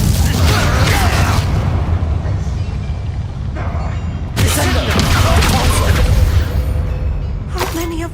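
A Bombarda spell explosion in the Hogwarts Legacy video game: heavy, sustained booming rumble with rolling debris-like roar, loud and near, surging again midway before tapering into a grinding tail.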